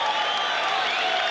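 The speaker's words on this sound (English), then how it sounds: "Nice round of applause for" An arena crowd at a boxing match applauds the losing fighter after the bout, a steady wash of many hands clapping at a distance, with no break in the sound.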